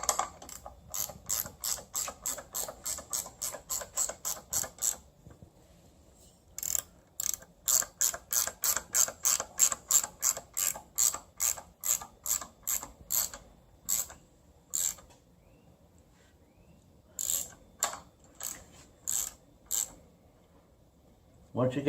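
A ratchet clicks in quick bursts while turning the adjustment pulley to tension the accessory belt on a V6-swapped Miata, each run of sharp close pawl clicks separated by short quiet pauses.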